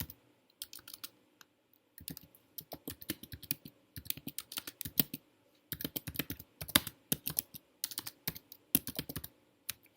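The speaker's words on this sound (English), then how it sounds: "you have to type in a workspace name" Computer keyboard typing in irregular bursts of quick clicks with short pauses, close and fairly quiet, entering a workspace name in a project management tool; no voices.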